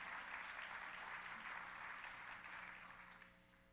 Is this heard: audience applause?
yes